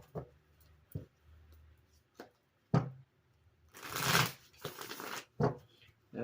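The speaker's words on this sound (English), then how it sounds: "We got two more shuffles." Tarot cards being shuffled up close: short riffling clicks at first, then two longer, louder bursts of shuffling in the middle, in a quiet room.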